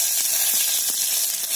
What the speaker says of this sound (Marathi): तेल तापलेलं आहे, पहिले मोहरी टाकूया। मोहरी तरतरली तर आपण जिरं टाकायचं आहे